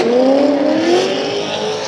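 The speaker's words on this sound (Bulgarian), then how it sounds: "В първия рън Светло е първи автомобил, а преследващ е Ники." A drift car in a Bulgarian drifting championship battle in Sofia roars loudly at high revs, the engine pitch climbing steadily with a rasping exhaust tone and a hint of tire noise, close and dominant.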